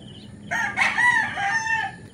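A rooster crows once, loud and close, a drawn-out call over faint farmyard background noise while chickens are being fed.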